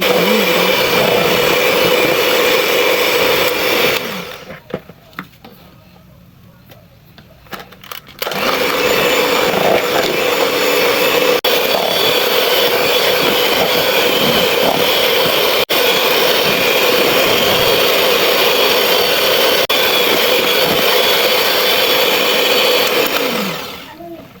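An electric mixer beats eggs until fluffy for Japanese pancakes, a loud, steady whirring drone that cuts out for a few seconds, then resumes at full strength and runs on continuously.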